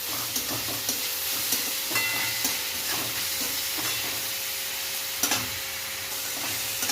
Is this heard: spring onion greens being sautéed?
yes